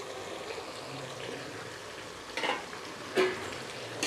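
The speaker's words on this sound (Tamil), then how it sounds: "வெங்காயம் எல்லாம் சேர்த்து வதங்கிக்கிட்டு இருக்கு" Chopped onions frying in a generous amount of oil for a bitter gourd tamarind curry, a soft steady sizzle close by, broken by two brief louder stirring scrapes near the end.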